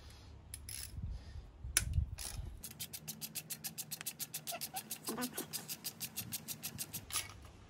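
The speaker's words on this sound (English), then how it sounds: "Just removing the tensioner now for the belt. It's a 10mm." A ratchet wrench clicks in a fast, even run while removing the belt tensioner's 10mm fastener on a Ford ST170 engine, close and fairly quiet, after a few knocks and clunks.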